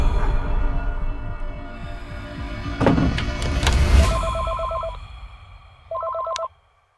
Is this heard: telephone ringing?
yes